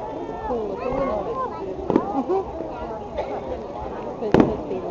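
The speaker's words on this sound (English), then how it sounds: "there's fireworks over there" Fireworks at a parade display go off as two sharp, distant bangs, with crowd chatter and several voices talking throughout.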